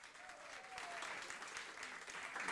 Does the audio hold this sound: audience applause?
yes